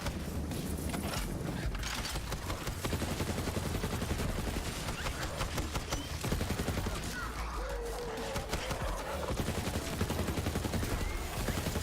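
Rapid gunfire crackles almost continuously in Borderlands 3, dense bursts of shots mixed with heavier shotgun blasts, loud and busy with game effects layered over it.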